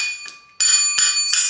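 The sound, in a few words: bell rung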